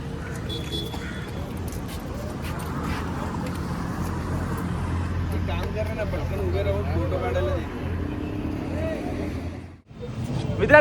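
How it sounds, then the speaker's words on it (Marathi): Dense roadway rumble from heavy vehicle traffic at Kalamboli, a steady broadband drone of engines with passing vehicles, continuous and fairly loud before dropping away briefly near the end. "आज भरपूर गाड्यांचा आवाज एवढा आहे ना"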